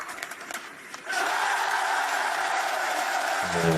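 A crowd of 3,600 cheers as a played sound effect: a steady, loud roar that swells after a brief bit of talk at the start and continues without a break.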